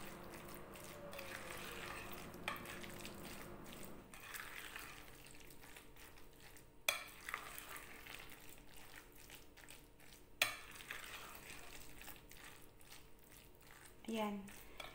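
A kangkong (water spinach) omelette batter, loosened with a little water, being stirred over and over, heard as faint continuous scraping and wet churning with a couple of sharp knocks and a short voice near the end.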